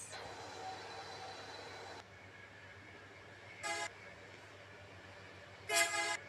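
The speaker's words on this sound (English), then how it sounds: "This is the brakes, so really loud." An Athens Metro Line 1 train's brakes squeal in high-pitched metallic bursts twice between Thiseio and Monastiraki, over a low rolling rumble, the second one louder and longer.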